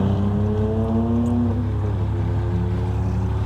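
The engine of an all-wheel-drive Ford F-150 runs loud and close with a deep, steady rumble and a gently shifting tone, with no voices.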